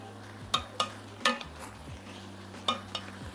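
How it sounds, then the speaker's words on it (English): A spoon stirs spiced vegetable chowder with parsnips and winter squash in a pan, giving a few soft scrapes and light metallic clinks over a faint low simmer, quiet and close, with no voices. "All right, we're going to give this a stir."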